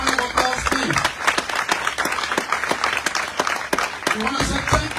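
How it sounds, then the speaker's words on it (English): A crowd at a Coalition for Democratic Change political rally in Liberia applauds loudly and steadily, with dense clapping that fills the space and keeps up for several seconds. "We give them a big round of applause, please."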